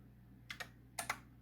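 Four quick keystrokes in two close pairs on a computer keyboard used with a DOS-era PC, crisp and near against a quiet low hum.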